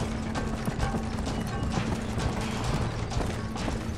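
Horse hooves clip-clop steadily in Red Dead Redemption as the horse follows the player, a continuous rhythmic patter blended with mechanical clicking game sounds and a low steady hum, no voices.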